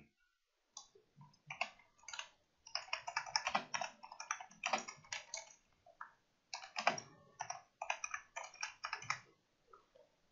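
Someone types quickly on a computer keyboard while entering form data, close clicking keystrokes in uneven bursts with short pauses between them.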